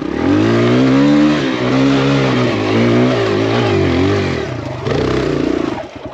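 A dirt bike engine revs loud and close while climbing uphill, its pitch rising and falling with the throttle, then dipping briefly before surging again.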